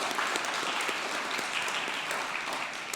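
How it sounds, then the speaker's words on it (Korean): A church congregation applauds to welcome a new member at a Sunday service after Christmas, steady dense clapping filling the room for the full stretch without pause. "우리 박수로 환영하도록 하겠습니다"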